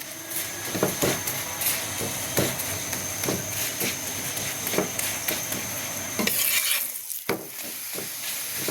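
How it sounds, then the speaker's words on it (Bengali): Flour paya frying in a little oil, hotel style, with a steady sizzle under repeated knocks and scrapes of a spatula against the pan, close by with no talk. "একেবারে হোটেলের স্টাইলে পায়াটা বানানো হচ্ছে, ময়দার পায়াটা"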